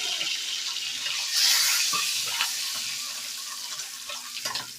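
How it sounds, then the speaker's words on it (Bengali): Eggs frying in a pan, a loud close sizzle with hissing bursts and light clatter, no voices. "এবার রান্নাঘরে চলে যাতেই আমি ডিমটাকেও ভেজে নেব।"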